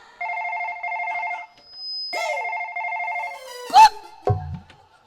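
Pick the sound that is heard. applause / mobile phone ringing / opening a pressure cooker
mobile phone ringing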